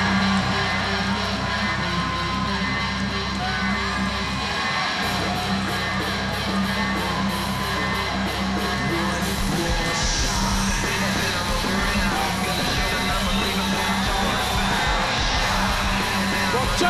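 Wrestling arena crowd reacting to Jeff Hardy at a pay-per-view event, a dense continuous roar of yelling and cheering that swells toward the end, loud and distant-sounding.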